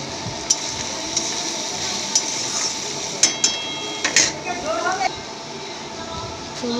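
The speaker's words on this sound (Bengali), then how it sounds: "সমস্ত মশলাগুলোকে দিয়ে দেখুন কিছুক্ষণ ভালোভাবে কষে নেওয়া হচ্ছে গুগলি ও আলুটা" Snails and potatoes with spices are stirred and sautéed in a pan, giving sharp metallic scrapes and knocks at irregular intervals over a low sizzle, while someone talks throughout.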